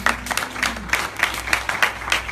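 A scattered round of clapping from a church congregation, steady and moderately loud, with no talking over it.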